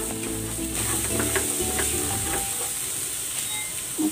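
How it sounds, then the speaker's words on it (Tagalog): Garlic sautéing in a pan over a chicken broth and sesame oil base, a loud continuous hissing sizzle with a few soft stirring scrapes and a low rumble early on. "Magigisa na ako ng bawang."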